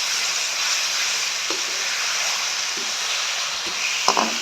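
Sliced potatoes and green chillies frying in oil for potato bhaji: a steady, close sizzling hiss with a few soft clinks and stirring sounds near the end.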